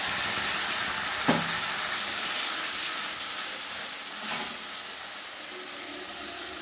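Ground spice paste hits hot oil tempered with black cumin seeds for a spicy oil-based fish curry, bursting into a loud, steady sizzle and hiss with a couple of brief stirring clatters, heard up close without talk.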